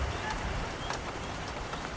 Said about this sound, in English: pouring rain, kind of sucks a little bit